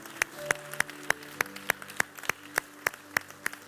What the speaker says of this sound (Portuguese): Vamos aplaudir ao Senhor, Ele é o nosso Deus.